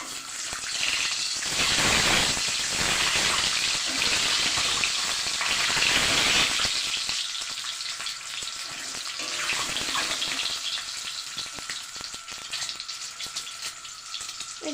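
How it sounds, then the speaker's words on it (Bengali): Peeled boiled eggs, pricked with a fork, drop into hot oil in a wok and fry with a loud, dense hiss that peaks early, then settles into a steady, crackling sizzle with no talk. "কড়াইয়ে আমি তেল দিয়ে দিয়েছি। এবার আমি ডিমগুলোকে ছেড়ে দেব।"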